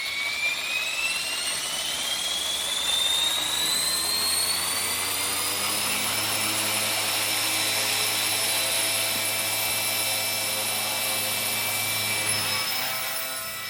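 All-metal JCZK 300c Pro RC helicopter spooling up for takeoff in a backyard, a loud, continuous turbine-like whine rising steadily in pitch over a low rotor drone, with no voices.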